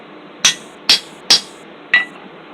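A hammer drives a punch into a metal J-hook at a forge, four sharp ringing strikes at an even pace, close and loud, each followed by a brief metallic ring.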